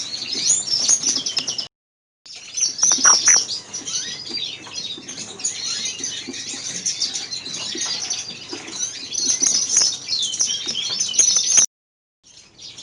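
Captive-bred greenfinches in aviary cages chirp and twitter busily and close, with quick overlapping calls, wing flutters and light scrabbling, cut by two short silent gaps.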